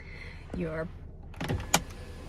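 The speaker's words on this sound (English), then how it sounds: "Open up that giant panoramic sunshade, and these all open into themselves" Inside a Volvo, a panoramic sunshade motor gives a brief rising electric whir, followed by a few sharp clicks and thumps from the mechanism, all fairly quiet.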